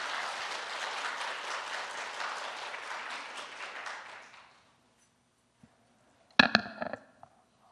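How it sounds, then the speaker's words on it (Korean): Church congregation applauding to welcome the pastor at a Sunday service, a sustained wash of clapping that fades out after about four seconds, followed by silence and a few scattered knocks and brief sounds. "우리 박수로 맞이해 주시기 바랍니다"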